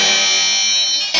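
Electric guitar bend run through a Moog MF-102 ring modulator with its frequency knob at maximum, tracking poorly into a bright, metallic, buzzing tone that holds steady, then a sharp change near the end.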